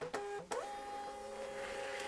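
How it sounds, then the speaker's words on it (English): Bluetooth thermal shipping label printer feeding and printing a label, close up: two quick clicks, then a steady whirring motor drone with a high whine running for about two seconds, no talking. "This is an incredibly fast printer."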